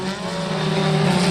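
Historic Formula Ford single-seaters racing at Oulton Park, engines droning at a steady high pitch as the cars hold speed, a continuous close buzzing with a slight rise toward the end.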